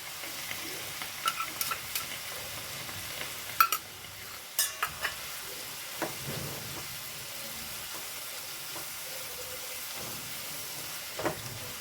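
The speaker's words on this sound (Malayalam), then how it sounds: "ഇളക്കി കൊടുക്കാം ഇനി ഇതിലേക്ക് ഇഞ്ചി വെളുത്തുള്ളി പേസ്റ്റാണ് ഇട്ട് കൊടുക്കുന്നത്" Ginger garlic paste stirred and frying in a pan for a Malayalam chicken kondattam dish, a soft steady sizzle with scattered scrapes and taps of the spoon against the pan, fairly quiet and close, with no talking.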